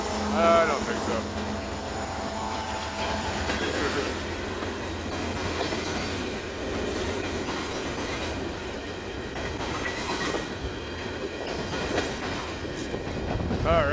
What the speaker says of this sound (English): the train is coming to an end here